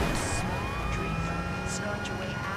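A fire engine siren wails in the video game GTA 5, a steady electronic tone held across the short stretch under game noise.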